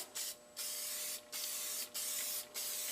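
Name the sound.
paint sprayer spraying a light layer of paint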